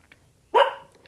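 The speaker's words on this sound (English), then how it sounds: "I'm sorry about my dog" A single sharp dog bark comes close and fairly loud, standing out briefly against a quiet background.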